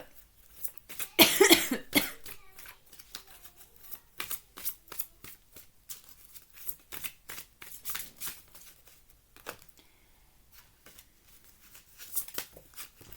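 A deck of tarot cards gets a crisp, loud burst of shuffling near the start, then a string of lighter snaps and flicks as cards are drawn and laid out, close and alone.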